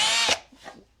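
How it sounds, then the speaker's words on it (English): A power drill with a 1/4 inch bit bores into thin sheet metal Z-channel on a 240Z during fender flare fitting, a loud bright whine cutting off after about a third of a second, then faint scraping. "when you're drilling holes in these Z's"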